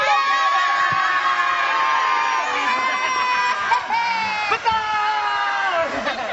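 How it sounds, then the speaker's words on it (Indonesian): A TV studio audience on an Indonesian entertainment show cheers and shouts loudly, with high excited voices and whoops layered into a continuous roar and a few louder bursts near the end. "tepuk tangan."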